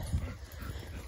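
Dogs playing during zoomies outdoors, with soft panting, brief yips and scuffling movement close by, faint and busy over a low background rumble.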